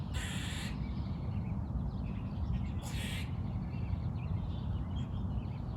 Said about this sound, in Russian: Это там кричит белка